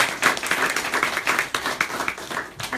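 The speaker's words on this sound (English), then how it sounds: "let's give all of our poets one more round of applause" An audience at a poetry reading gives the poets a short round of applause, a dense patter of clapping hands that pulses in waves.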